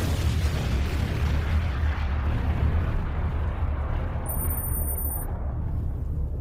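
Sustained rumbling explosion sound effect from a quiz game, a dense low boom that roars steadily throughout, loud and close with no talk over it, ending with a brief high electronic tone near the end.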